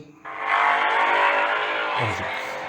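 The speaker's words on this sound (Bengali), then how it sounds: "একটা গাড়ি পাস হয়ে পাস করে গেলে কেমন হয় এই যে গাড়ি পাস করে গেল এবার গাড়ি স্টার্ট" A car sound effect from the InShot editor's library: a loud, steady engine roar sweeps past, then a low rumble near the end suggests the engine starting up.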